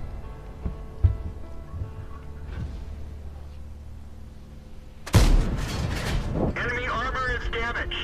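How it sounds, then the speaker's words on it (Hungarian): A tank cannon fires in World of Tanks, a single loud boom breaking in abruptly midway, followed by crackling battle noise and mechanical clatter; before it, quieter engine drone and distant thuds sit under the scene. "az ágyú azért legalábbis így Robinak a replay alapján elég pontosnak tűnik"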